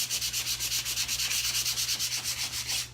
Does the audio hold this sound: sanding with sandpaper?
yes